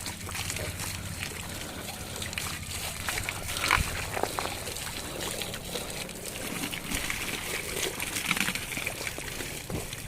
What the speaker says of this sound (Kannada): ಬೆಳಿಗ್ಗೆ ಏಳುವರೆಗೆ ಬಂದು ನೀರು ಹೊಡಿತಾ ಇದ್ದೀವಿ